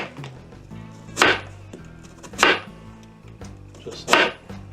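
A knife cuts a small onion into wedges for corned beef and cabbage, with three loud, crisp chops on a cutting board spaced about a second apart and quiet handling between them.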